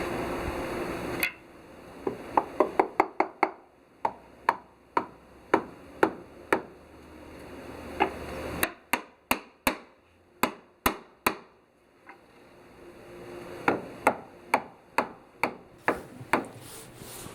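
Sledgehammer blows knock against steel during demolition work on the SS Virginia V, a run of sharp, loud, closely spaced strikes in uneven bursts with short pauses between.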